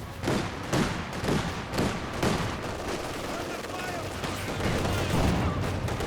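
An MG34 machine gun firing in the World War II strategy game Company of Heroes 2, repeated bursts of sharp shots among scattered battlefield gunfire, some bursts louder and closer than others.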